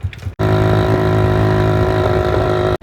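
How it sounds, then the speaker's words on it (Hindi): A motorcycle parked by a shop idles with a steady, loud, close engine drone that holds evenly for a few seconds before cutting off abruptly; no one speaks. "बाइक को इधर दुकान पे खड़ा कर देते हैं"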